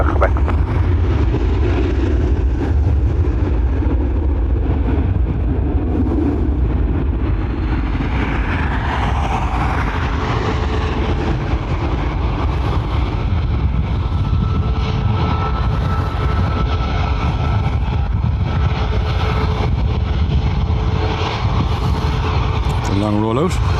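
An aircraft takes off on runway 10R at Dublin Airport, its engines a loud, steady roar throughout the long takeoff roll, with a rising tone near the end.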